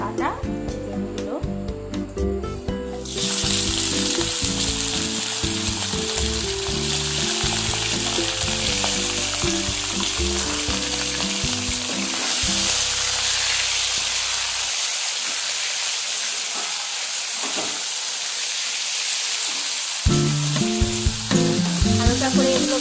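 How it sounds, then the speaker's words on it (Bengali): Small-cut chicken pieces sizzle and hiss in hot oil in a wok for a chicken ghugni recipe, a steady close frying noise under a person talking, with background music early on. "কড়াইয়ে একটু তেল দিয়ে নিয়েছি। এবার এর মধ্যে দিয়ে দেব ছোট করে কাটা চিকেনগুলো।"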